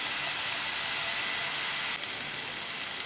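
Onions and vegetables sauté in a pan for a chicken bread roll filling, giving a steady, even hiss that runs unbroken from start to finish with no voices over it.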